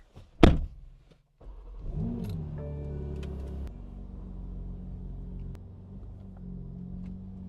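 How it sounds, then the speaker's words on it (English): A BMW G80 M3 starts up inside a garage with a sharp burst, then idles and rumbles as it reverses out, a steady low engine drone with small shifts in pitch, close by and with no talking. "So I'm gonna back the car out really quick and put it on an angle just so it's easier to wash."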